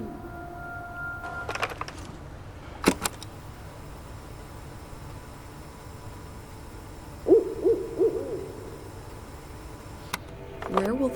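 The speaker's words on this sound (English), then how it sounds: "There's an owl hooting somewhere." A distant owl hoots softly a few times in a quiet outdoor setting, with occasional faint knocks and rustles nearby.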